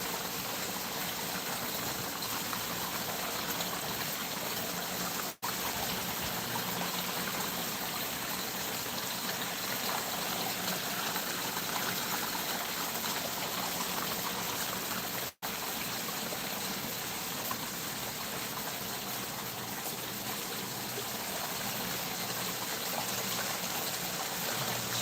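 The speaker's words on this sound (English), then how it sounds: "now instead of that water coming around the sides, it's shooting through the center now a lot faster" Water in a small stream rushes fast through a narrow channel, a loud, continuous gushing roar that holds steady throughout with no talk.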